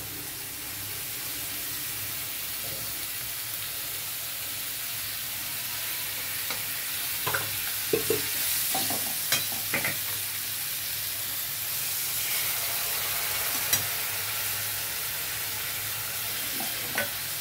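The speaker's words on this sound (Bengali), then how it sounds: "এবারে একসাথে সবটা ভাজা হয়ে যাবে।" Chopped tomato and shrimp paste fry in oil in a pan for a shrimp and taro-stolon dish, giving a steady, close sizzle with scattered scraping stirs and no talking.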